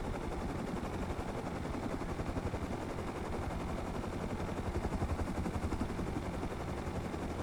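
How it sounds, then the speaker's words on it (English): Attack helicopter firing its guns in the video game Rust: dense, continuous rapid gunfire mixed with rotor noise, loud and unbroken throughout. "Oh, there's the attack chopper right there."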